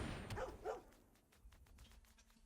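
A dog creature card barks in the MTG Arena video game: a couple of short, mid-loud synthesized bark calls up front, followed by fainter clicks and game sound effects.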